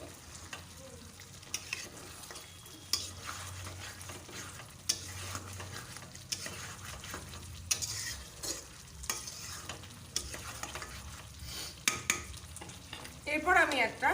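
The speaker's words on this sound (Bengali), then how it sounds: "এবার আমি ভালো করে নাড়িয়ে ছাড়িয়ে নেবো। তলা দিয়ে ওপর দিয়ে ভালো করে নাড়িয়ে ছাড়িয়ে নেবো।" Mutton being stirred in a cooking pot, a steady scraping and sizzling that runs throughout with intermittent clinks of the spoon against the pot, close and moderately loud, no voices.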